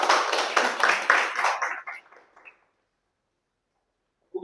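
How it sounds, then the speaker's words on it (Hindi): Audience clapping for a woman coming on stage at a community gathering: a dense, loud burst of applause that tapers off after about two seconds, then silence. "चरणजीत मैम के लिए एक बार जोरदार तालियां।"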